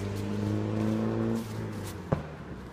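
Car engine noise at the busy Nantahala Outdoor Center on the Appalachian Trail on a Saturday, a moderately near motor humming then fading, followed by a brief sharp clack.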